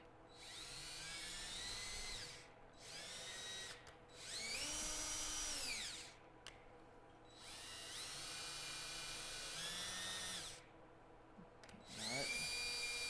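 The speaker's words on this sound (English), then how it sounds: "And what you do is you go back and you re-drill." A power drill bores holes into a wooden birdhouse in several whining bursts of a few seconds each, rising and falling in pitch, with short pauses between them and no speech.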